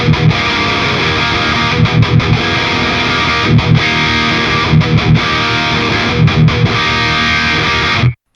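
A heavily distorted electric guitar amp is played through a Captor X Plus reactive load set to its bold load-shaper setting, with loud, dense chugging riffs and short palm-muted stops before it cuts off abruptly.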